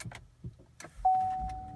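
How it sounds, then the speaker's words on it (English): A 2012 Chevy Volt powers on: a few soft clicks and thumps, then a steady electronic start-up tone that holds on, fairly quiet and close, with no engine roar. "I'm trying to start the car."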